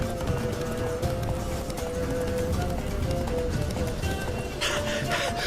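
In The Witcher 3, the horse Roach gallops with a steady rush of hoofbeats under dense game ambience and music, while a voice is heard briefly.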